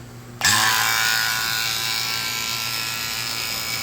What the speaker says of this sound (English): we'll go ahead and kick the pump